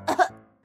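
A sick Nenuco baby doll in a cartoon gives two quick, rough coughs close up, followed by a short breathy sound.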